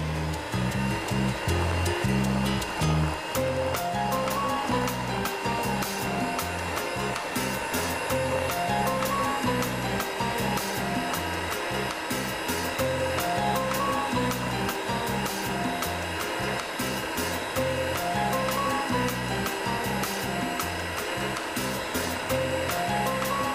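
An electric mixer whirs steadily and loudly through chocolate cake batter thinned with plenty of oil, a constant motor drone with a bright beating hiss that carries on without a break.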